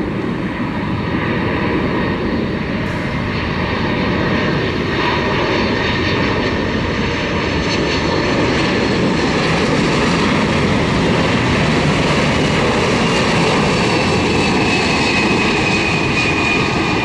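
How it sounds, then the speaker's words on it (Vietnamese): A Cathay Pacific Cargo Boeing 747-400F lands at Tan Son Nhat airport, its jet engines producing a loud, continuous roar and whine that holds steady throughout, with no voices. "chiếc Boeing 747 của Cathay Pacific Cargo thực hiện chặng bay từ sân bay Nội Bài về đến sân bay Tân Sơn Nhất"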